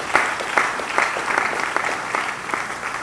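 A church congregation applauding after a scripture reading, lively rhythmic clapping from many hands nearby, steady and fairly loud for about three seconds.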